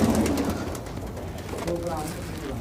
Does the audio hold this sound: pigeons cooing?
yes